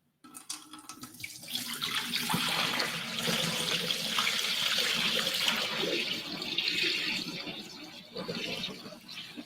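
Liquid from a batch of wild crafted sea moss being poured out, a steady close splashing rush that starts suddenly, holds for several seconds and tapers briefly before swelling again.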